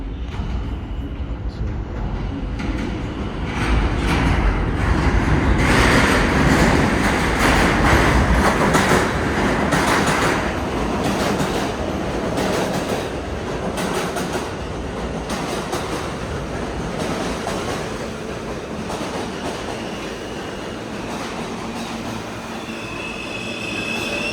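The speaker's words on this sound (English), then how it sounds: "Here comes the train though." A subway train arrives at Canal Street station, rumbling loudly with rising clatter and drawn-out squealing wheels as it pulls in and slows, filling the platform with continuous noise for over twenty seconds.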